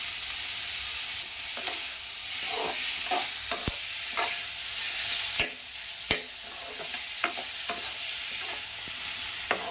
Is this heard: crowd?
no